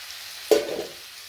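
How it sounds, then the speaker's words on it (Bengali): Satin fish drops into a hot pan with a sudden sharp hiss that quickly fades into a short, softer sizzle. "এবার এই মাছগুলো দিয়ে দিচ্ছি"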